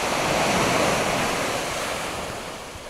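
A wave washes onto Cleopatra Beach in Alanya, Turkey, with a broad rushing roar that slowly fades as it recedes, mixed with some wind buffeting the microphone.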